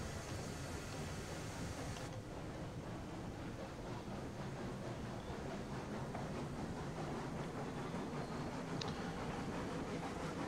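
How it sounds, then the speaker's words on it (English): Train in RailRoads Online setting off slowly after taking up coupler slack, a steady dense rumble and rolling rattle running continuously throughout with no talk. "We're gonna take the slack out of the train here and then just get going."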